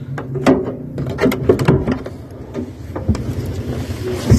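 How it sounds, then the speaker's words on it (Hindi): Knocking on a door by an arriving guest, heard as a series of sharp, fairly close raps in uneven bursts over a steady low background rumble. "वो इस टाइम दरवाजा खटखटा रहे हैं"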